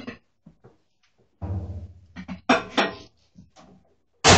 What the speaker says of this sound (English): I'm putting it in the microwave